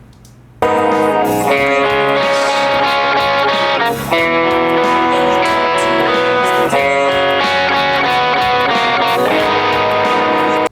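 Rhythm guitar plays the second variation of a song's rhythm part, loud strummed chords through effects, with brief breaks and no talking.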